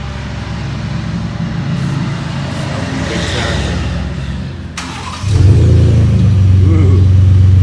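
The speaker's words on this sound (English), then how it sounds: "Now we gotta see how it sounds. Start her up, hold it wide open" A Ford F-150 Platinum pickup with a 3.5 EcoBoost engine and MBRP exhaust idles nearby, then cranks and roars up as the throttle is held wide open, settling into a loud, steady, deep drone.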